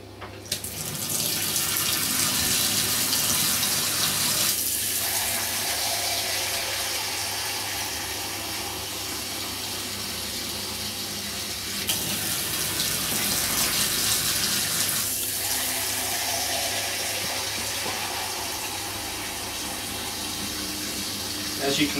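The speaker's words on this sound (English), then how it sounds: "As you can see, I'm just putting hot water from the tap." Hot water runs steadily from a kitchen tap into a home-brewing vessel, a continuous gushing hiss with slight changes in flow, close and alone.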